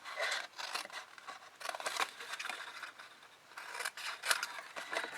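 Card stock snipped with scissors while assembling a small jam gift box from Stampin' Up supplies, a series of close, quiet cuts and light rustles spread evenly across the stretch.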